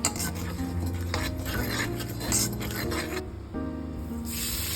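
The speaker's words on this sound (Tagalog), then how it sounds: "heat 2 tablespoons of olive oil in a pan and add some pepper and some chili flakes" Pepper and chili flakes in hot olive oil in a pan make a close, continuous sizzle with stirring scrapes and clinks of a utensil against the pan, with no voices.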